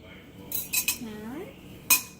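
A fork pokes and scrapes at oven-steamed broccoli in a dish, giving a few sharp metallic clinks spread over a couple of seconds, close and fairly quiet, with a brief voiced murmur in the middle.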